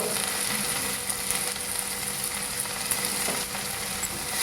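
Garlic frying in hot oil after a dried red chilli tempering, the base for a small-fish chorchori: a loud, dense, unbroken sizzle and crackle close by, with no talking.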